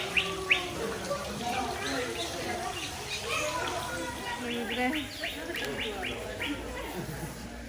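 Birds chirp and tweet in an aviary at a manor, with bright calls scattered throughout at close to moderate distance over a busy background, while people talk nearby.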